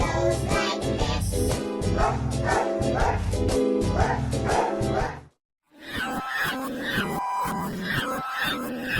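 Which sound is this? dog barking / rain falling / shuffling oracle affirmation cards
dog barking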